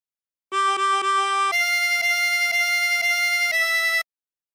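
A 24-hole tremolo harmonica plays a phrase of Yellow Rose of Texas. Several steady, reedy notes sound in a clear sequence, loud and close and alone, with no talking.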